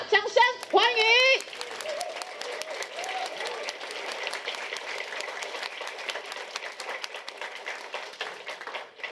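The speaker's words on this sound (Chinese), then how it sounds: "掌声欢迎" Sustained crowd applause welcomes Kuomintang chairman Eric Chu to the stage at a political rally, a steady dense wash of clapping that follows a brief announcer's voice at the start and carries on at even loudness.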